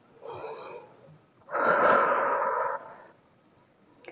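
A person takes a deep breath during guided relaxation: a soft inhale, a pause, then a longer, louder, airy exhale that fades into quiet, close and alone.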